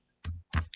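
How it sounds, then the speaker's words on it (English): Two quick, close keystrokes sound on a computer keyboard, sharp clicks separated by a short pause in otherwise silent surroundings. "Then we start typing."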